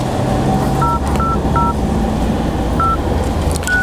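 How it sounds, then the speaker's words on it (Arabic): Telephone keypad tones beep one at a time as a number is dialed. Several short, evenly spaced beeps sit over a loud, constant background rumble. "بدي اتصل تلفون واجرب"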